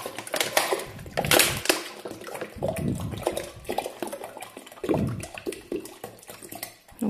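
Water from two 1.5-litre plastic bottles poured into a container, a continuous splashing and gurgling stream that swells and dips in irregular surges, fairly close and loud with no talk.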